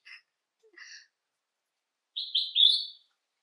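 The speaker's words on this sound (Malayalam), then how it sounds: "ഒരു കുഞ്ഞു കിളി അമ്മേനെ ഇങ്ങനെ പാട്ട് പാടിത്തരാ" A small bird sings outdoors during the monsoon, giving a few brief high chirps followed by a quick trilling phrase of three rising notes, fairly near and alone.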